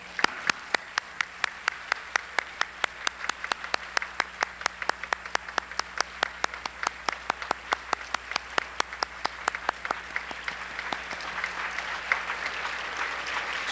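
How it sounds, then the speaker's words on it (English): A standing audience at a 1995 Slavic Evening at Ambassador University claps in steady unison, sharp evenly spaced beats from many hands that keep a regular rhythm for over ten seconds before blurring into looser, denser applause. "let us all stand up, and we're all going to applaud one another"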